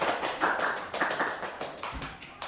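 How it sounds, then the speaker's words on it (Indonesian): Classroom applause for a student after a microteaching presentation, a few seconds of soft scattered clapping with light, uneven taps. "Terima kasih Tika, tepuk tangan untuk Tika"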